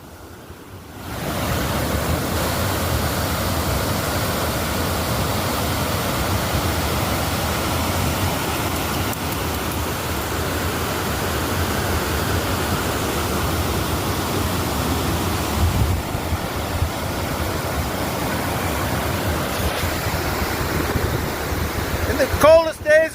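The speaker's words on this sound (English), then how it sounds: "Checking out the waterfall." Waterfall at Barberville Falls on the Poesten Kill in upstate New York, running fully thawed, gives a steady, close rushing roar that fills the whole stretch without a break.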